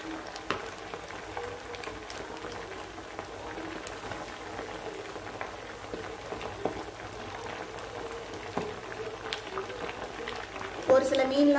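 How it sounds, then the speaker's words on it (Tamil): Fish pieces fry in hot oil in a home kitchen, a steady crackling sizzle with scattered pops running throughout, while a person talks over it. "இப்போ நம்ம வந்து மீனை போட்டு பொரிச்சிடலாம்."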